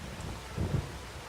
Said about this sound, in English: Sounds like it's still raining.